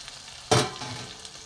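A single sharp clatter as fried jackfruit and boiled potato are tipped into a pan with prawn masala, followed by a low, steady sizzle.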